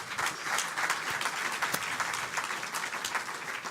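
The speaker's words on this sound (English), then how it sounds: "please allow us to give a warm round of applause to the panelists" Attendees in a conference tent at an annual meetings session applaud the panelists with a steady, moderately distant patter of many hands clapping, even and unbroken throughout.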